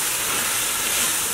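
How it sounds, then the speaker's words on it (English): Potato greens frying in red palm oil, a loud continuous close sizzle and hiss with no break. "As you can see, it's frying down good."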